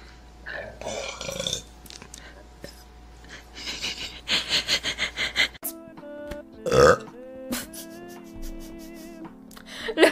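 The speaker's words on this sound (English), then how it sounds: "Oh my god, I have to burp back in." A woman lets out a series of loud, drawn-out burps close to the mic, several in a row, with her voice speaking between them.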